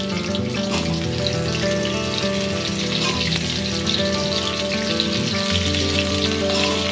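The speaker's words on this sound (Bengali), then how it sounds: "আলুগুলো আস্তে আস্তে ভাজা দিচ্ছি।" Potatoes for a meat dish fry in a hot pan, giving a steady, close sizzle and crackle over a low droning hum.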